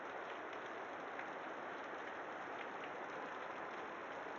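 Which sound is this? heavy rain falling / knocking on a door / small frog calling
heavy rain falling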